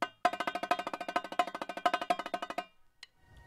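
Drumline snare playing a rapid, even run of crisp strokes with regular accents, a dense rhythmic burst lasting over two seconds and then stopping abruptly, close and solo.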